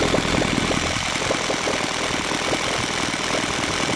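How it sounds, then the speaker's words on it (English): An OS FF320 Pegasus model aircraft engine idles on a 20:1 gasoline mix, giving a steady, close, continuous rattling drone with rapid regular firing pulses and no talk. "It idles really smoothly on the carburetor settings."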